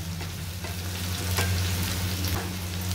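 Potatoes and onions for a dry spiced potato-and-aubergine dish fry in a pan, with a continuous, even hiss and a faint low hum. There is no talk.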